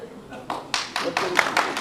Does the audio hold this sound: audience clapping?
yes